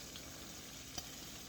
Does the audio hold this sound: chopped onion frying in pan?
yes